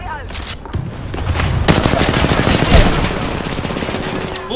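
Rapid bursts of video game gunfire, automatic weapon fire with loud shots and booms continuing densely throughout, with some game voice audio mixed in.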